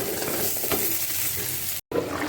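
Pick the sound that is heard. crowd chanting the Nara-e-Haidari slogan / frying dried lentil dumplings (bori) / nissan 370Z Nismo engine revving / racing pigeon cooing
frying dried lentil dumplings (bori)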